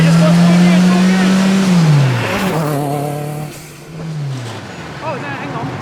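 A street-legal Lancia Delta S4 Group B rally car, turbocharged and supercharged, its loud engine drone dropping through a gear change and then revving again, with people talking over it inside the cabin.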